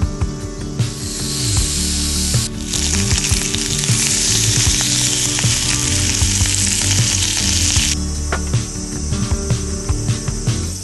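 Yakiniku meat sizzles loudly and steadily on a grill at a campsite, a dense frying hiss that swells in the middle, with crickets chirping around it and no talking.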